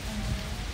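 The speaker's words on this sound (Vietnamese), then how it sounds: "Đang mưa nha." Steady rain pours down during a storm outdoors, a dense continuous hiss with no talk over it.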